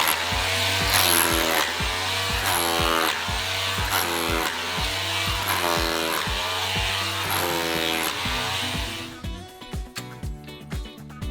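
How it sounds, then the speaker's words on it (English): A hammer drill with a speed bit pounds steadily into soil while digging a post hole, a loud rapid rattle in repeated bursts, then stops, leaving scattered clunks and scraping. "Got the hammer drill, nice little, I guess you call it speed bit."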